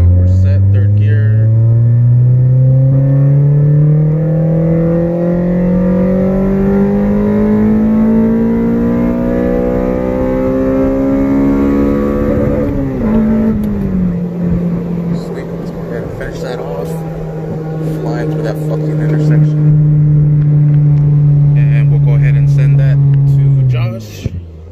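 A tuned car accelerates hard in third gear, engine pitch climbing steadily as it revs, then dropping sharply at a shift to a lower, sustained drone near the listener; a voice speaks briefly at moments.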